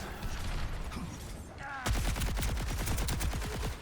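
Rapid automatic gunfire in the Overwatch video game, a magazine emptied in a fast, dense burst of evenly spaced shots that starts abruptly partway through and continues to the end, loud and close.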